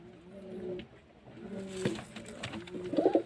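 An angry pigeon puffs itself up and coos in low, rolling phrases, repeating several times at close range with a slightly louder burst at the end.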